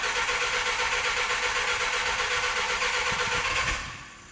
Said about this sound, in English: Yes, we are going for a cold start.